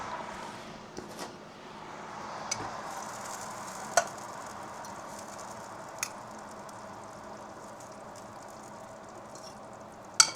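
Shrimp sizzles in a hot pan at home, a steady, even hiss with a few sharp clicks and taps from the pan or utensil breaking through.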